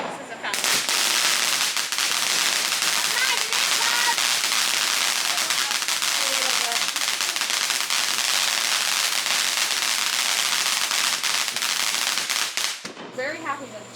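A firework fountain sprays a loud, continuous crackling hiss for roughly twelve seconds without pause, then stops abruptly as the sound drops to quieter background noise.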